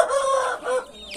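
A hen clucks close by in a brief, loud burst of harmonic calls that trails off at the end, with no talking.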